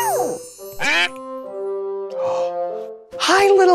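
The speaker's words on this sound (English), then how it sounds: "A duck!" Cartoon duck quacks from a Blue's Clues & You! episode: three short, bright, nasal bursts spaced over a few seconds, loud and close, with sustained musical tones ringing between them.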